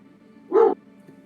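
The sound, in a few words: dog barking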